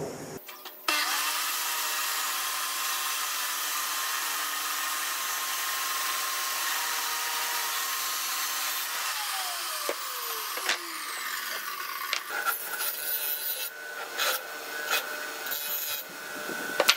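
Steel bar being cut with a saw, a sustained harsh rasping grind that runs continuously and loudly, then breaks into shorter uneven strokes and scrapes near the end.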